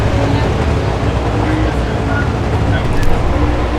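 A top fuel drag racing engine warms up at close range, a loud, steady broadband roar that holds without a break for the whole stretch.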